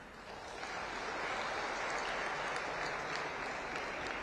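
Large crowd at the Arun Jaitley Multipurpose Stadium naming plaque unveiling breaks into applause, a broad, hissing wash of many hands swelling up from quiet and holding steady, somewhat distant.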